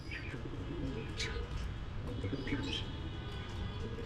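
Domestic pigeons with clipped wings coo and chirp on a rooftop, a soft continuous murmur of calls with a few brighter chirps over low background rumble.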